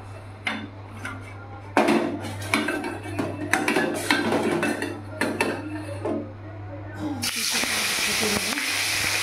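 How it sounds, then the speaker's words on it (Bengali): Two fish fry in hot oil, a steady sizzle and hiss with clinks of a pan or utensil, and the spattering grows louder near the end while a voice talks faintly at times. "তেলটা গরম হয়ে গেছে, আমি এই মাছ দুটোকে ভেজে নেব।"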